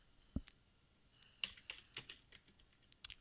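Light, quiet typing on a computer keyboard, a run of soft separate key clicks at an uneven pace with one sharper tap near the start.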